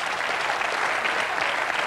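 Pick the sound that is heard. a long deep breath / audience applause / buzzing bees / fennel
audience applause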